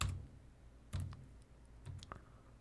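A few keystrokes on a computer keyboard entering a number, heard as short separated clicks over a low background hum, fairly quiet.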